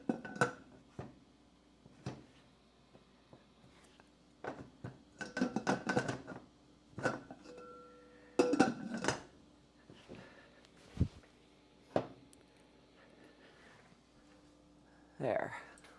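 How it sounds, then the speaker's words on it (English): A metal lid is set onto a pressure canner loaded with seven quarts of French onion soup, giving a few close clanks and scrapes amid sparse kitchen handling noises, with a person talking between the knocks. "I'm going to go ahead and put the lid on."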